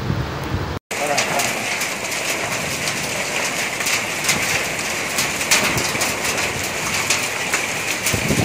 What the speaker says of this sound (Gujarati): ભારે પવન સાથે વરસાદનું આગમન થયું હતું.